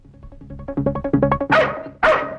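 A dog barks in a quick run of sharp, evenly spaced yips that build into two louder, longer barks near the end, close and clear with no talk over it.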